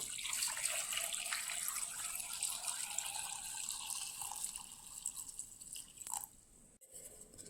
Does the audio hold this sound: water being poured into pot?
yes